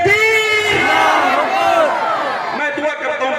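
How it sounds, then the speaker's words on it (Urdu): A large crowd at a religious gathering chants a welcoming slogan together in loud, massed voices. The chant sustains a roaring unison cry that trails off into scattered shouts. "جناب توحید رضا بریلوی آ رہے ہیں، ایک نعرے کے ساتھ استقبال کر لیں۔"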